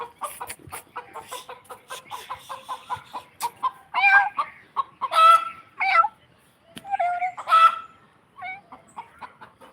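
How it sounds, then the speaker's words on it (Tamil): A chicken at the house across the street clucks and calls in a morning garden. Short clucks run into several louder, drawn-out squawks, fairly close and clear, with no talking over them. "எதிர் வீட்டு கோழி."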